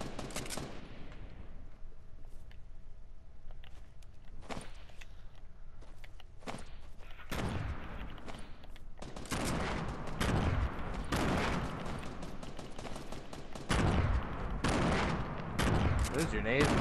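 Gunshots in the video game Fortnite: scattered single shots at first, then dense, loud rapid volleys of fire, some sharp and close, others more distant, with brief footsteps between them.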